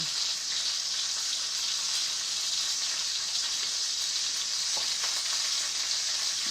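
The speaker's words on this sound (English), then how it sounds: "Give me some chunks in here. Stir it up real good." Chunks of food stirred in a hot pan give off a continuous, close sizzle with a bright hiss, holding steady throughout with faint scraping underneath.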